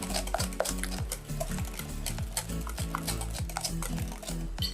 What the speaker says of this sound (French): vous mélangez bien vos œufs et votre sucre